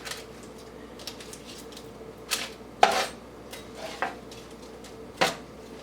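Beet leaves flipped and stirred in a hot frying pan while being dried into chips, giving sparse, light clinks and scrapes of utensil on pan over a faint background hiss, with a few sharper knocks.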